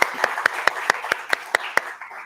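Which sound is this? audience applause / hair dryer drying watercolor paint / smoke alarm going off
audience applause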